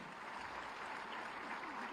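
Dense ceremonial applause from a seated audience at a Mission Shakti women's award and honour event, a steady wash of many hands clapping continuously and fairly loud throughout, no voices over it.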